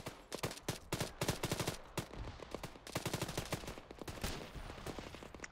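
Rapid bursts of video game automatic gunfire crackle in dense, rattling volleys, continuous and fairly quiet, with no talking.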